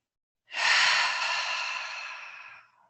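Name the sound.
cleansing breath in and out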